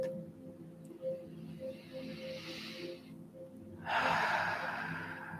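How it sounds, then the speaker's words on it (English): A slow, deep breath drawn in and then released, soft and close, the airy inhale followed by a louder, longer exhale. "Let's take a deep breath in and out."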